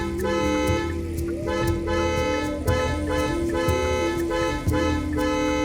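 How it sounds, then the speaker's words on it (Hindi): A car horn blares repeatedly in short, loud toots over a steady engine drone, with brief gaps between honks. "गाड़ी का हॉर्न बजाने लगता है।"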